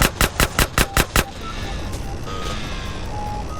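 Big Smoke fires a gun in Grand Theft Auto: San Andreas during a train chase: seven loud, evenly spaced shots in a quick burst, then a steady rumbling roar of motion and engines.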